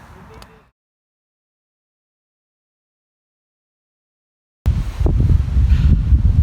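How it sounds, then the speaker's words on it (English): Strong gusts of wind from a brewing storm roar against the microphone at a night campsite, loud and continuous, after a brief rustle and a long stretch of silence. "There's a storm brewing tonight. It's getting very windy."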